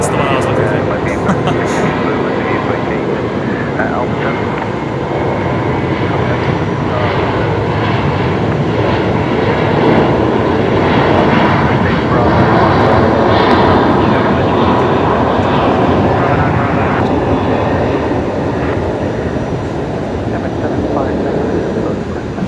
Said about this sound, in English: Now, velocity 474, just begun its takeoff roll, heading to Perth tonight.